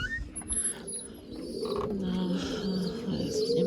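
Racing pigeons coo in a loft after a race, a low continuous cooing murmur with scattered brief chirps, fairly close and steady throughout.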